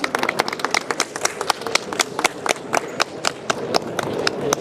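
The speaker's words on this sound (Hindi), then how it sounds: "तालियां नहीं, तालियां जोरदार, क्लैपिंग।" A crowd claps in lively, scattered applause welcoming a product launch at an AI summit in India, the dense claps steady and loud throughout with a faint voice underneath.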